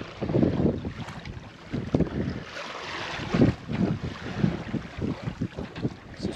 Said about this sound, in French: tout doucement on quitte la baie de Pinarel à la voile